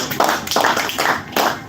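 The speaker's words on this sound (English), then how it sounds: "Make una clap better." Four distinct, rhythmic group claps from an audience at a youth programme session in Nigeria, each a sharp, loud slap of many hands in unison, about half a second apart.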